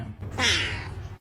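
A house cat gives a single drawn-out meow lasting about a second, close and fairly loud, with a low steady hum underneath.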